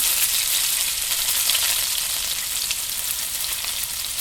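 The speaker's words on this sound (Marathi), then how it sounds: "कोलंबी चांगली तेलामध्ये परतून घ्यायची आहे" Prawns sautéing in hot oil with spices give a steady, loud, close sizzle that keeps a constant hiss throughout, with no voices over it.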